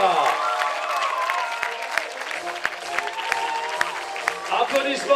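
Applause from the audience at a paraclimbing World Cup medal ceremony in Briançon comes as sustained, crisp clapping from a crowd, with an announcer's voice over it.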